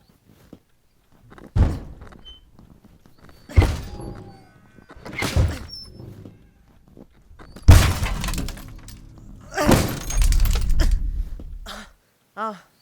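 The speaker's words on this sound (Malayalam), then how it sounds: "എടാ ആ വിൻഡോ ഗ്ലാസ് ചവിട്ടി പൊട്ടിക്ക്." Window glass kicked and shattered as an audio drama effect: several heavy thuds spaced a few seconds apart, building to loud crashing breaks with scattering shards, then a short final clink.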